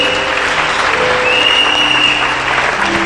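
A church congregation applauds and cheers to acclaim God, producing a dense, loud, continuous wash of clapping and crowd noise.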